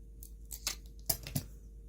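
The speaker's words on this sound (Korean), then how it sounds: "그것을 가위로 이렇게 살살살살 동그란 구멍이 뚫릴 수 있도록 오려줍니다" Scissors snipping a round hole in paper for a craft project: four or five short, crisp cuts close to the microphone, spaced unevenly over about two seconds against a faint steady hum.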